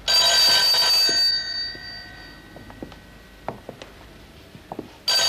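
A telephone bell rings loud and close in a burst, stops, and starts ringing again after a few seconds of near silence with faint small knocks.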